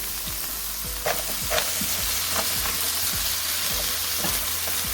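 Pork fries in a pan for Thai fried rice, giving a loud, steady sizzle close up with occasional stirring scrapes and no voices.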